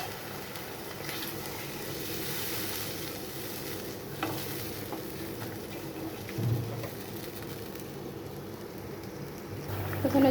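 Fish curry broth with potatoes boiling steadily in a pan for a Bengali bele fish jhal with ginger paste, a continuous bubbling hiss with faint occasional clinks, no voices.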